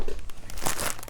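Crinkly plastic rustling and snipping up close with scissors, a brief burst of crackling and tearing as an AliExpress package is cut open.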